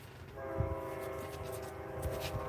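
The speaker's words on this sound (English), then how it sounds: "you can hear those train whistles all over town" A train passing through town, several blocks from the track, sounds a distant steady horn tone that hangs over low rumbling and faint rail noise, with a few nearby clicks.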